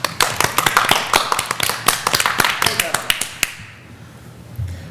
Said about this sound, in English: All willing to give a round of applause.